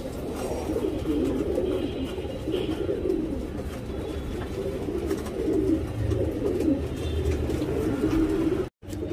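Young racing pigeons being readied for a tournament, including a Lal cut Mukhshi, cooing in a dense overlapping chorus of low throaty calls, close and steady throughout with a momentary dropout near the end.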